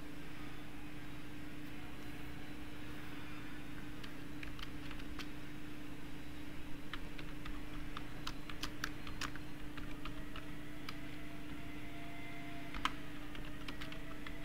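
Sparse, faint key presses on a computer keyboard while Python code is written, scattered irregularly over a steady electrical hum with no talking.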